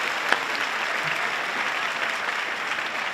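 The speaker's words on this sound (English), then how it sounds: "Let's give a round of applause for all the fathers in the audience." Sustained applause from a commencement audience at UC Santa Cruz's Stevenson College ceremony, cheering the fathers on Father's Day; a steady, dense wash of clapping holds evenly for the full few seconds with no talking.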